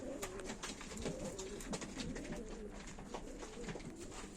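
A single yellow male Turkish tumbler pigeon up for sale at a live pigeon auction coos steadily and softly, with a constant busy murmur of other birds and room noise underneath.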